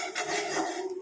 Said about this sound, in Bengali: এবারে এগুলোকে সব একসঙ্গে মিক্স করে নেব